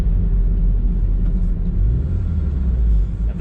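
A tractor passes on a country road, heard as a loud, steady low rumble that swells and dips slightly over a few seconds with no talking.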